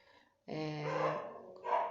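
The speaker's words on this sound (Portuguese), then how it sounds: "o cachorro latindo lá fora" A dog outside lets out a drawn-out, tonal bark that fades, then a second shorter bark, moderately loud and a little muffled by distance.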